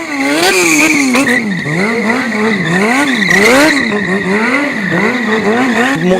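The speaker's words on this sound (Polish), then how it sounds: "drifty, czyli poślizgi takie, mm, burnouty, palenie gumy" Motorcycle stunt show drifting and doing burnouts at an Oldtimerbazar event, with loud continuous tire squeal and a wavering, revving engine swelling and dipping throughout, close and without talk.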